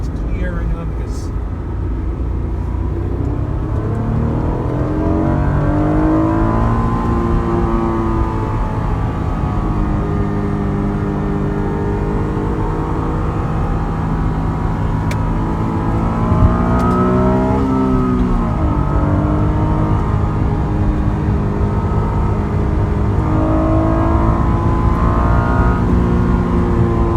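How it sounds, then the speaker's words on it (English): Naturally aspirated V6 of a 1997 Honda Acura NSX with a six-speed manual, revving steadily with rising and falling pitch while driving, loud and continuous, with people talking over it throughout. "We'll talk more about it after we hear the glorious V6"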